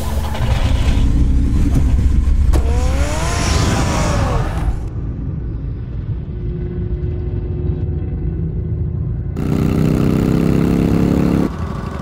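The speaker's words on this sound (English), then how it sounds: "Get the car ready, Alfred." A car engine in the Batman Telltale video game idles and revs up, loud and close over the first few seconds, then settles to a steady lower rumble with game sounds around it.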